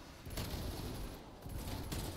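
The Diamatti pistol in Black Ops Zombies fires in quick bursts of two rapid-fire groups separated by a short pause, crackling sharply but at low overall volume.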